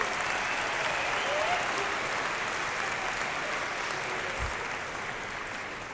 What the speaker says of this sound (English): One more round of applause for the varsity and JV choir.